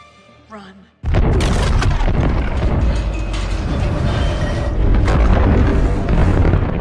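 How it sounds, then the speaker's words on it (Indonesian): Explosion blasting open the ice block that imprisons Ghidorah in a Godzilla film: after a brief quiet moment, a sudden loud boom erupts and rolls on as a sustained, thick roar of debris and rumble. "Entah apa yang dipikirkan oleh Emma, dia malah meledakkan bongkahan es yang mengurung Ghidorah"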